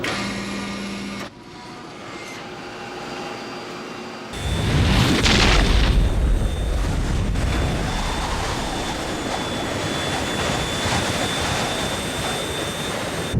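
An aircraft's cargo door tears off in explosive decompression: a sudden loud boom-like blast after quieter cabin sounds, then a sustained roaring rush of wind and noise.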